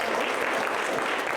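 A brief burst of dense audience applause from a crowd at a business talk, loud and continuous throughout.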